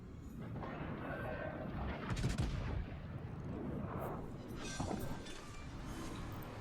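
The battleship Imperator Nikolai I fires its guns in World of Warships: Legends. Booming salvos rumble in the background at a modest level among the game's noise, with no voices.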